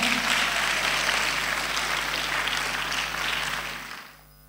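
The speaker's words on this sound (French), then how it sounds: "Est-ce qu'on peut acclamer le Seigneur?" A church congregation applauding at a Sunday children's celebration service, a steady, full wash of clapping from many hands that fades out near the end.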